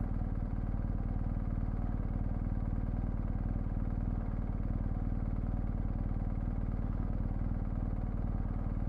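A BMW GS adventure motorcycle engine runs steadily while riding off road in Enduro mode, a continuous low throbbing drone with constant loudness and no talk.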